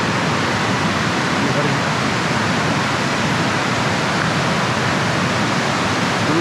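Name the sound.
heavy water flow at Devkund waterfall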